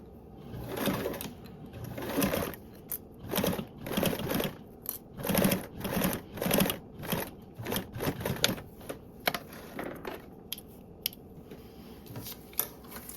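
A sewing machine stitches fabric with a quarter-inch seam, running in short rhythmic bursts broken by brief pauses and small clicks, with no voices.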